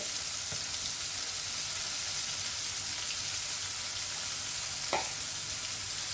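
Steady, loud sizzling of pork intestines frying in an iron pan, with a couple of faint metallic taps partway through.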